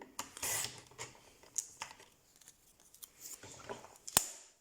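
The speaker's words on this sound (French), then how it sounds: "Je vais le découper avec le massicot." A paper strip being sliced on a paper trimmer during card making, giving a few close, crisp cutting rasps and a sharp blade snap near the end, with no talking.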